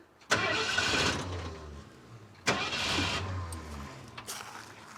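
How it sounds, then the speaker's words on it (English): A 1976 Ford F250 crew cab truck, sitting abandoned for 20 years, cranks and catches twice in a row, each start a loud, rough burst of engine noise that fades after a couple of seconds. "So let's see if it turns over and let's see if it fires."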